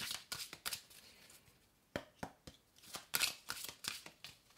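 Oracle cards are shuffled by hand in a quiet room, a run of soft, crisp riffling and slapping bursts in an irregular rhythm, close and fairly faint, with no voice over it.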